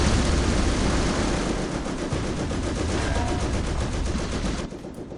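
Airstrike in the Company of Heroes video game, loud rapid machine-gun strafing rattle with an aircraft roar beneath, continuous for several seconds before cutting off abruptly; no talk.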